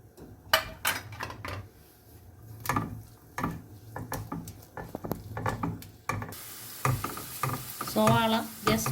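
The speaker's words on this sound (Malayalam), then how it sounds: "അതിലേക്ക് നമ്മൾ ചെറുതായി അരിഞ്ഞു വെച്ചിരിക്കുന്ന സവാള ഇടുകയാണ്" Chopped onion dropped into hot coconut oil in a pan, crackling and sizzling with clattering stirring strokes, the frying growing into a steady hiss near the end.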